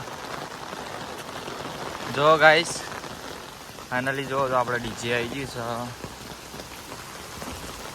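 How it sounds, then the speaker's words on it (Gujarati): Steady rain patters on surfaces throughout in a village, with people talking briefly over the downpour. "અમારા ગામમાં વરસાદ બંધ નહીં થતો"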